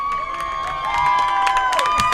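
Spectators in the bleachers at a boys' high school soccer match between the Eudora Cardinals and Louisburg Wildcats cheer a goal, with sustained shouting and whoops and scattered claps rising toward the end, loud and close.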